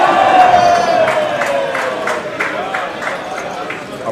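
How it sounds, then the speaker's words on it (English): Crowd cheering at a live poker tournament, a broad sustained roar of voices that gradually fades over a few seconds, with a rising whistle-like tone early on. "I'm guessing there was a cheer."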